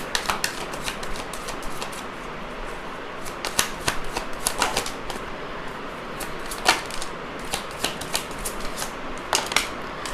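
Tarot cards being shuffled and drawn, giving repeated crisp papery flicks and snaps in irregular bursts, close and fairly quiet over a soft steady background, with no talk.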